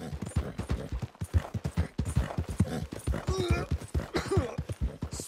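A horse's hooves clip-clop in a steady trotting rhythm in the Red Dead Redemption 2 video game, close and continuous, with a voice speaking over the hoofbeats.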